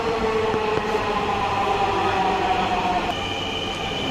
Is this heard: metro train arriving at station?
yes